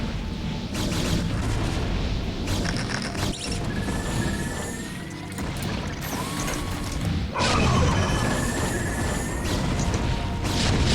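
A busy StarCraft battle with tanks firing: repeated booms, crashes and mechanical unit noises overlapping in a dense, continuous mix at moderate loudness.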